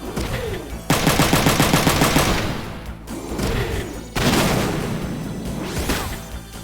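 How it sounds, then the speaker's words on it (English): Mech-mounted shotgun blasts in Front Mission 3, repeated loud rapid bursts in two main volleys separated by a brief lull, with booming impacts and whooshing effects. "Keep using the shotgun here, hopefully blow up some arms and legs."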